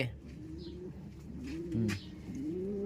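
Racing pigeon cooing close by, a few low throaty coos rolling over each other in a soft, steady rhythm, with no voices.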